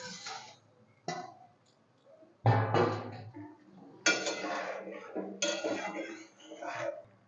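A lid lifted off a covered dish of boiled chicken, a few clinks and knocks of metal and glass cookware near and clear, separated by quiet gaps, with a person talking between the sounds.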